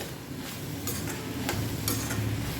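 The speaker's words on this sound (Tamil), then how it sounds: "பொரியல் பொடியை போட்டு நல்லா வதக்கிடுங்க" Ridge gourd and onion stir-frying with poriyal powder in a pan, a close, steady sizzle broken by a few quick spatula scrapes and stirs.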